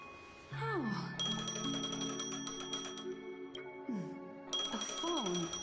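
Telephone ringing in the video game Honkai: Star Rail, a bright repeating electronic trill that stops and starts again, with falling musical tones and faint game sounds around it.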